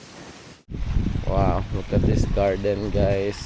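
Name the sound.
strong wind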